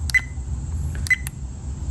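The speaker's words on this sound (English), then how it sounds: "Beeping sound." A pair of clear electronic beeps from a car dashcam, roughly a second apart, followed by a small click, over a quiet low rumble.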